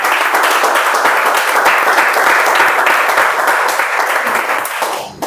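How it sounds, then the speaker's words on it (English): Steady applause from an audience at a Toastmasters club meeting, greeting a speaker; dense, continuous clapping close by that holds throughout and fades sharply at the very end. "Give it a big round of applause to my target speaker"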